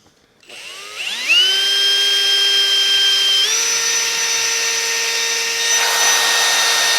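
A Matco cobalt HyperStep step drill bit spins up into a whining drill that rises in pitch, then holds a steady, loud, tonal cutting sound as the bit bites through metal, with no talking.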